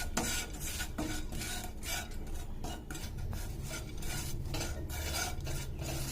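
Spice powders dry roast in a pan over a medium flame, making a close continuous scraping and stirring sound as a utensil rubs the pan in quick strokes, with no voices.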